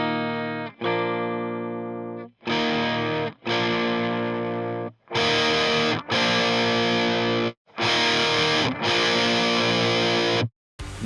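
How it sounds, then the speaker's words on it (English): Electric guitar played through a tube preamp, repeated held chords that grow from clean tone through crunch and overdrive into full, buzzing distortion, loud and close, separated by brief silences. "let's hear what it sounds like to increase the gain of my tube preamp from clean to crunch to overdrive and finally push it into full distortion."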